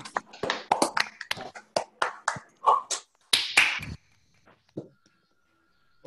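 Scattered, uneven clapping from attendees unmuting on an online mathematics seminar call after a talk, with several faint overlapping bursts over a few seconds before things fall mostly silent.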